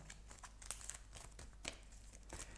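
Night raid cards from This War of Mine board game being shuffled, giving a close, soft papery crinkle with a few sharper flicks spread over a couple of seconds, no voices.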